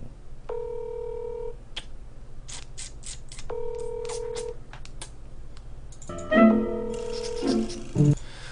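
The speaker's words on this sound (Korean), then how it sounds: "전화 한 번 더 할게요" A phone is dialed with two bursts of touch-tone key beeps, followed by a busier stretch of tones and ringing, close and clear over a low steady hum.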